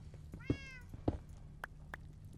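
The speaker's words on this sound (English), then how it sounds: "There is a cat somewhere in the base" A cat in a modded Minecraft base gives a clear, rising meow, followed by a few softer clicks and small sounds, faint and somewhat distant over a low steady hum.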